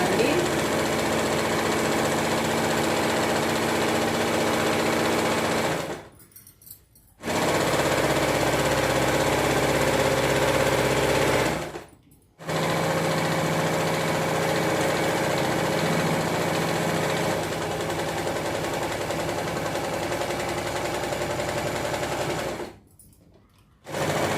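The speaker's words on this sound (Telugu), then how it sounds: "ఒక్కసారే మనకి మిషన్ కిందకి వెళ్ళాలి అలా పెట్టుకొని కుట్టుకోవాల్సింది" A sewing machine stitches lining cloth onto a coat-style designer blouse, its motor whirring in steady, continuous runs broken by three brief pauses, loud and close throughout.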